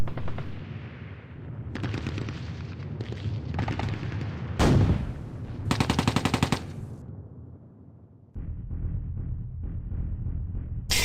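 Gunfire in a WW2 turn-based tactics game: separate bursts of machine-gun fire and rifle shots, broken by a loud blast and short pauses, each volley sharp and close.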